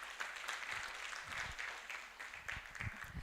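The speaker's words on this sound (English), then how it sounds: "I would like to applaud UBL for that" Applause at a graduation ceremony for the UBL Uganda Learning for Life programme, a moderately quiet, steady patter of many hands clapping in a hall, fairly distant.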